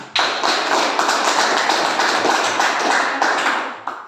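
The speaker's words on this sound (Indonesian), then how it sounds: "Tepuk tangan untuk kelompok 2." A group of students in a classroom burst into loud, close applause that holds steady for about four seconds before tapering off abruptly.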